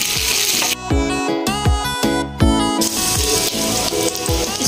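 Garlic, onion and dry chilies fry in hot oil for a Hyderabadi dahi kadhi tempering, a loud continuous sizzle close up, with rhythmic clinks of a spoon stirring against the pan.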